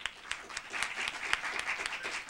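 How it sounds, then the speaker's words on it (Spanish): Quiet audience applause for Óscar at a panel session, a short run of distinct claps from a small crowd, somewhat distant and soft. "también le damos un aplauso a Óscar"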